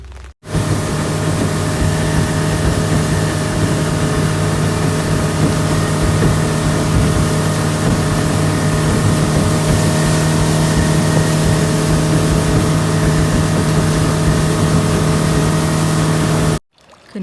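A motorboat engine drones steadily and loudly for the whole stretch, a constant low rumble with no voices, cutting off abruptly at the end, out on the water in rain.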